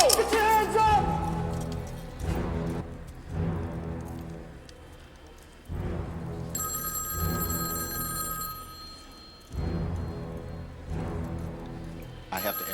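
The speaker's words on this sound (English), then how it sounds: "I have to answer that phone." Telephone ringing in a movie scene, repeated bursts of ringing spaced a few seconds apart under loud talking and tense background sound.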